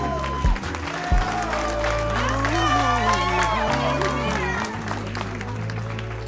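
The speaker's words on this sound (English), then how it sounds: "a nice round of applause, ladies and gentlemen, for Arthur and Courtney" Wedding guests applaud the newly married couple, Arthur and Courtney, at their reception: a steady, loud wash of clapping and crowd noise with cheering mixed in, running under music and voices throughout.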